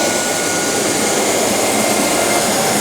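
A Landice treadmill runs after a lower control board replacement, putting out a loud, steady broadband whir and hum with no change in pitch and no voices.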